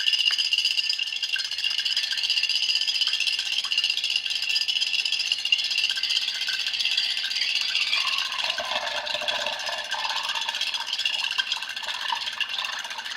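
A steady mechanical drone of a DIY magnetic stirrer motor, joined by an AC unit, with a rattling, whirring hum that shifts in pitch partway through, continuous and fairly close, with no voices.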